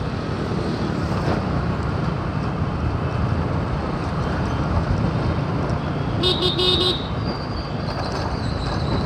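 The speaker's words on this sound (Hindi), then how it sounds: "यहाँ से भी थोड़ा ट्रैफिक लगना स्टार्ट हो गया है।" Dense road traffic roars steadily around a motorcycle rider, with a short burst of honking car horns partway through and a fainter horn afterward.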